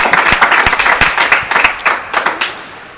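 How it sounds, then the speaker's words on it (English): Spectators at a real tennis doubles match clap after a point, a close, moderately sized burst of distinct hand claps in uneven rhythm that thins out and trails off. "That will get a big clap."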